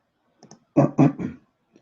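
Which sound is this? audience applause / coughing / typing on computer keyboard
typing on computer keyboard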